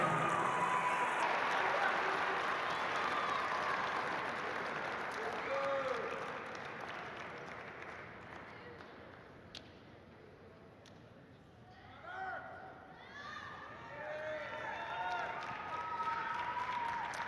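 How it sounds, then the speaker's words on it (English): Crowd applause at a Class AA high school basketball championship game, loud sustained clapping that fades over several seconds, with some voices and scattered cheering rising again near the end. "How about a big round of applause?"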